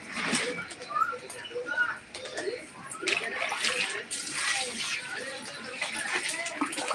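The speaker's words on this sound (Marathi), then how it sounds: "आता हे उरलेलं पाणी घेते" Leftover water after washing clothes being poured out, splashing and trickling in uneven bursts at close range while someone speaks over it.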